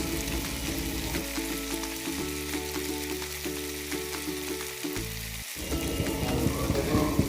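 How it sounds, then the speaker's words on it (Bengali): Chopped onions fry and sizzle steadily in a pan while being stirred, a dense, continuous crackle that runs for several seconds alongside a faint tonal hum, with no talk. "এভাবে ভালোভাবে নেড়ে চেড়ে পেঁয়াজ কুচিগুলো ভেজে নিতে হবে"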